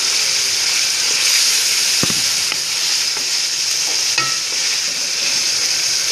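Pre-boiled goat liver (kaleji) sizzles loudly and continuously in a hot pan, with a few distinct stirring knocks and scrapes of a spoon cutting through the dense, hissing fry close up.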